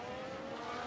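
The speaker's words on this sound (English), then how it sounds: "They've spun the car!" Race cars roar past in the F1 Manager 22 racing video game with a steady, loud engine drone and a hint of tire squeal as one spins out, with no voices.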